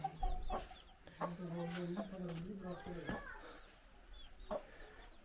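Chickens cluck and a rooster calls in short bursts near the listener on a village farm, with people talking over the birds.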